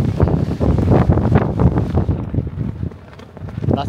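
Strong wind buffets the microphone on Phu Quy island, a loud steady roar with gusts that surge and ease, no voices.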